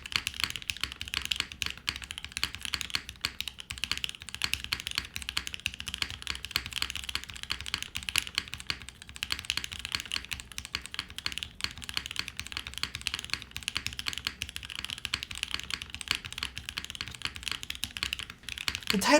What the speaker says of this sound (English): This is extremely comfortable to type on.